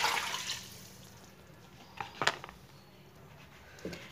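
Water is poured from glasses into a pot for Kashmiri chicken yakhni pulao, heard as a faint splashing pour at first, then a few soft splashes and drips later.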